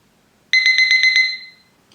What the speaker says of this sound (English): every 3 minutes, this timer will beep